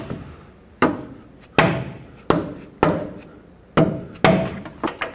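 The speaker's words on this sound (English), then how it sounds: "you can use a rubber mallet and just persuade it into place" A rubber mallet taps an upper control arm into place on a Chevrolet Express van, delivering about eight sharp, close thwacks at an uneven pace, each ringing briefly before the next blow.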